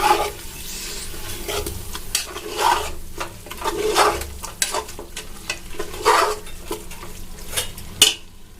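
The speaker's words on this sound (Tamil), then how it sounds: "மட்டனை போட்டு நல்லா கிளறி விடணும்" Mutton frying in a large biryani pot while being stirred, with a continuous loud sizzle under repeated scraping and clanking strokes of a spoon against the metal pot, close up and with no talking.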